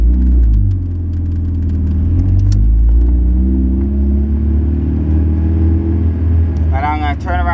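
Manual five-speed car pulling away in first gear on a quiet dead-end street: a steady low engine rumble rises as it accelerates, with faint voices near the end.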